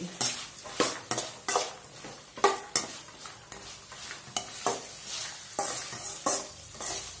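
Thinly sliced potato and carrot frying in a pan for vegetable pulao, with a steady sizzle under repeated rhythmic spatula scrapes against the metal, close and moderately loud, no speech.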